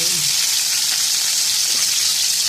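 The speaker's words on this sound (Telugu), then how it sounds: "తర్వాత ఈ ఉల్లిపాయలు వేసేసుకోండి. ఉల్లిపాయలు, పచ్చిమిర్చి" Onions and green chillies fry in oil for a vegetable biryani meal, a loud, dense, even hiss of sizzling close by that holds steady throughout, with a brief low voice at the very start.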